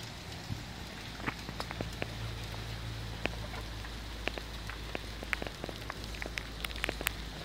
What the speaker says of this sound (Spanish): Pero está cayendo más hielito que nieve.